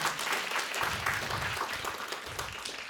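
Audience applause fills a stand-up comedy show, a dense, steady wash of many hands clapping throughout without a break.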